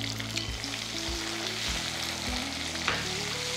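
Shallots, okra and tomato sizzle steadily in hot oil for sambar, with soft stirring scrapes now and then; close, even frying with no voices.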